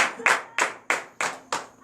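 A church congregation at a morning prayer service in Benin claps in unison acclamation, six sharp, evenly spaced beats close by and loud, each ringing briefly in the room.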